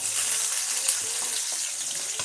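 Steady, close-up sizzling of onions frying in a pan, a constant hiss with a few faint clinks of stirring, no voices.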